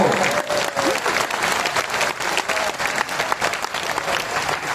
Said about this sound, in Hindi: इसलिए एक बार मेरे सम्मान में हाथ ऊपर करके ढंग से ताली बजाओ।